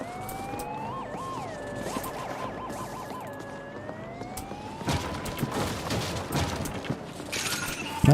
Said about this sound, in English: Not sure if I need to be concerned about those police sirens.